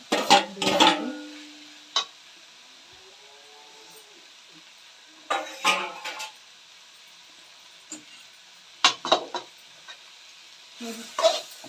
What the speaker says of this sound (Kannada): ಸ್ನೇಹಿತರೆ ಈ ರೀತಿ ಎಲ್ಲ ಫುಲ್ಲು ಬೆರೆಸ್ಕೊಬೇಕಾಗುತ್ತೆ